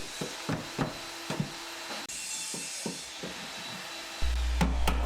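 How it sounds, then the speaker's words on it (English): Chisel tapping on wooden stair tread ends: a series of sharp, close knocks and scraping strikes at irregular intervals, with a steady machine hum starting near the end. "Now we'll use a chisel to clean up any uneven ends"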